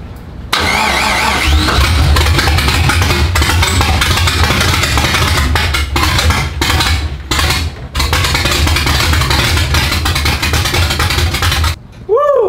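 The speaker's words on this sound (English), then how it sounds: "We have a working engine," A small engine cranks and catches, then runs loudly and close at a rough, uneven idle with some surging, and cuts out briefly near the end.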